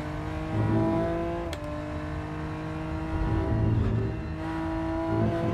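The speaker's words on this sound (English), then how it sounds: "the BMW doesn't sound that great, I don't think, but it does feel really good" A BMW race car in the Rennsport racing game has a steady, droning engine note that swells and eases through gear changes and revs, heard close and continuous with no talking.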